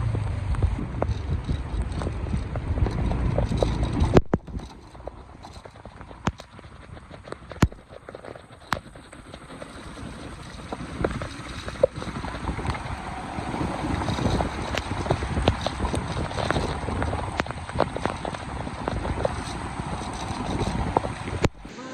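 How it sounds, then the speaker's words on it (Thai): Heavy rain pours down at Ta Yai waterfall, a dense steady rush of water that is loudest in the opening seconds, then drops abruptly and keeps on as a continuous close hiss with no talking. "ตอนนี้เราอยู่กันที่น้ำตก ตายายแล้ว ตกหนัก เล่นน้ำก็เล่นไม่ได้"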